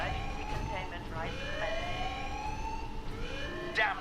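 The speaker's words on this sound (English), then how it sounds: "Alarm. Structural damage. Warning." Alarm siren in Warhammer 40,000: Space Marine, a wailing tone that sweeps repeatedly up and down over a rumbling background, with a voice speaking alongside it.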